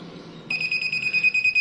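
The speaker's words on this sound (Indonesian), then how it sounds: "dan akan memunculkan alarm, dan indikator alarm akan menyala" Biological safety cabinet (Class II Type A2) alarm going off as sterilisation halts, with a steady high electronic beep tone switching on abruptly after faint background hum, close and clear.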